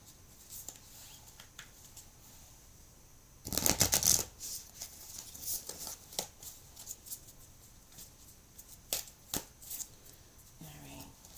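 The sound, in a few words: shuffling tarot cards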